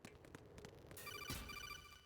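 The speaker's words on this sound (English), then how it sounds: "I'm just going into another phone call." In the video game Metal Gear Solid 2, an incoming codec call rings as a repeating electronic trill over low game background noise, starting partway through and continuing to the end.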